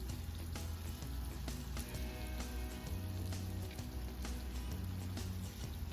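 A meatloaf with a sugar and ketchup glaze, just out from under the broiler, sizzles and crackles softly and steadily at close range, with faint kitchen clatter.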